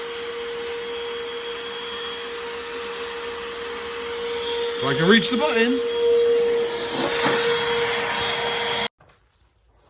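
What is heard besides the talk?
vacuum cleaner vacuuming a car interior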